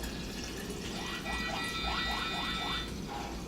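Coconut milk pours into a pan while making coconut kefir, a soft steady liquid trickle with a few gurgling bursts in the middle, close and fairly quiet against a low background hum.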